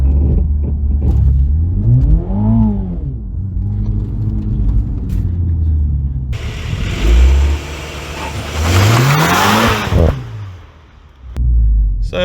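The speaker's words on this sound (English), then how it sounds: "you have about like 3 seconds to release the brake, and you will go as fast as the vehicle can safely go" A 2021 MINI John Cooper Works GP launches with launch control in an empty parking lot, its engine revving loudly and rising in pitch through several gear changes, close and dominant with no talking.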